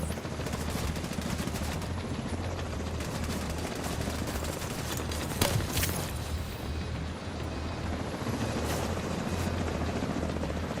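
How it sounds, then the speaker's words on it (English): Helicopters in a shooter video game thump with a continuous rotor beat, loud and near, overlaid by bursts of gunfire and a few sharp explosions. "we've already spawned the next set of helicopters"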